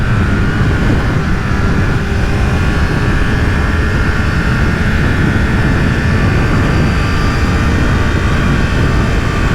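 Steady broadband wind roar while riding a Honda CBR1000RR Fireblade SC59 motorcycle across a bridge, loud and constant throughout with engine hum underneath and no talking.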